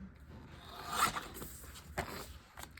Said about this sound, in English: I'm gonna trim a little bit on this side.